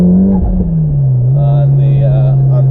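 A Mitsubishi Evo X's fully built turbocharged engine with a GTX3076R turbo drones loudly and steadily on a dyno, its pitch rising and falling as it revs, heard from inside the car.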